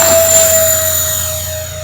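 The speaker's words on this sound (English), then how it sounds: "we are gonna do a grass takeoff and then a landing with the A-10" An E-flite A-10 Thunderbolt II RC jet with twin 64mm electric ducted fans on 6S power rolls for takeoff from rough grass, giving a loud, steady high-pitched whine with a rushing airflow hiss that eases slightly.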